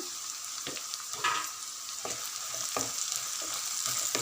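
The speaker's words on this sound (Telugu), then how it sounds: "గడ్డలు ఇలా బ్రౌన్ గోల్డెన్ బ్రౌన్ కలర్లోకి వచ్చాక ఒక స్పూన్ పసుపు వేయాలి" Golden-brown onions with turmeric frying in a pan for an amaranth-leaf stir-fry, a continuous loud sizzle broken by several scraping stirs of a spoon, no talking.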